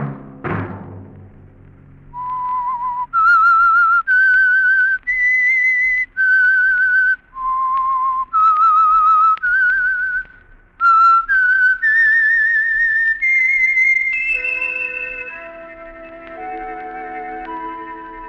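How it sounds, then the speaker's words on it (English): A lone whistler performs the theme tune of The Whistler radio program, a clear, close melody of sustained, separated notes that ends with a fading orchestral chord and has no talking over it. "Let that whistle be your signal for the Signal Oil program, The Whistler"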